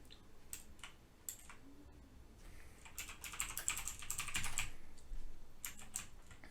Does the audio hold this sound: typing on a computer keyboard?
yes